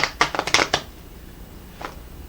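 A quick riffle of oval cards shuffled close by, several crisp papery flicks in a burst, then a faint single flutter after a pause.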